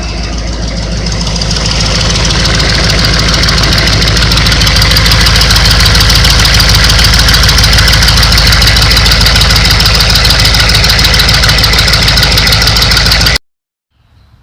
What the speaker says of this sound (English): The engine's kind of loud.